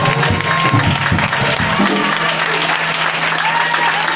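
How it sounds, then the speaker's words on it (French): A church congregation applauds and cheers during a French-language worship service, a dense, loud wash of clapping with scattered shouts that holds steady and then eases toward the end. "Est-ce que tu peux encore l'acclamer?"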